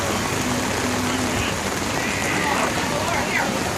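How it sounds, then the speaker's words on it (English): Hail pelts down during a hailstorm at the New Boston fairgrounds, making a dense, steady hiss and patter that fills the whole clip, with voices talking in the background. "Well, now we've had hail again."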